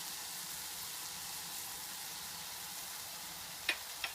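Mushrooms dusted with flour sizzle in a pan during cooking for tofu Wellington, a steady, soft broadband hiss that runs throughout, with two brief sharp clicks of a utensil near the end.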